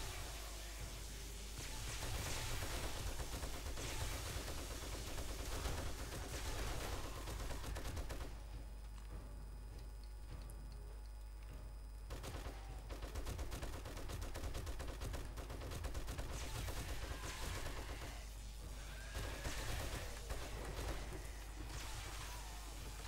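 A submachine gun fires in the zombie survival game 7 Days to Die, with dense rapid bursts and a short pause partway through, loud and continuous, and no talking.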